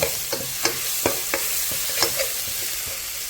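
Ginger garlic paste stirred into frying biryani masala for chicken biryani, a spoon tapping and scraping the pan in irregular strokes over a constant close sizzle, no voices.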